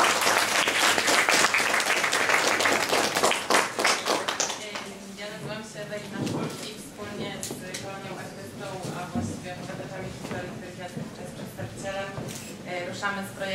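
An audience at a Gdańsk cultural gathering claps for guests in a dense burst of applause that fades into scattered claps, with people talking over and after it.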